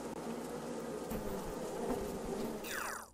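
Bees swarming to attack in the Dragon City video game, a dense, steady insect buzz that holds at even loudness before a rising synthetic sweep cuts in near the end.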